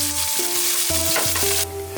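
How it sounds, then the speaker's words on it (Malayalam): Onion and tomato sautéing in a hot pan for masala cooker chicken, a brief sizzle overlaid by a loud shifting tonal hum, with a rush of hiss near the end. "നമുക്ക് അതിലോട്ടേക്ക് ഉള്ളി തക്കാളിക്ക് വാട്ടാം."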